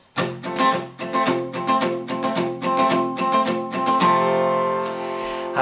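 Rhythmic guitar strumming in a galloping pattern, bright and close, with chords ringing out at the end.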